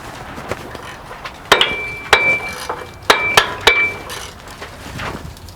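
A ratchet on a wobbly socket works a tight oil pan bolt loose under a Ford F-150 5.0 Coyote 4x4, producing several sharp metallic cracks and clicks with a brief ringing tone, close and otherwise quiet.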